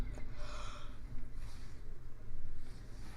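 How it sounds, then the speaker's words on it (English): A person gives a big yawn, a drawn-out breathy exhale that swells and then trails off into a couple of softer breaths, close and fairly quiet. "sorry for the big ass yawn there"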